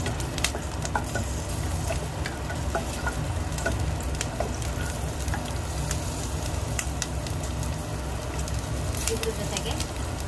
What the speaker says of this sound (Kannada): ಚೆನ್ನಾಗಿ ಹುರ್ಕೋಬೇಕು ಹಸಿರು ಮೆಣಸಿನ್ಕಾಯಿ